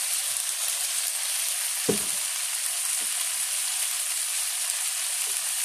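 Soy sauce and liquid seasoning hit a hot pan of butter chopsuey with a loud, steady broadband sizzle, close up, with a couple of soft low knocks from stirring.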